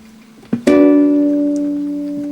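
A guitar chord from a chord exercise in an unusual tuning rings out close and loud after a soft pluck, then sustains and slowly fades.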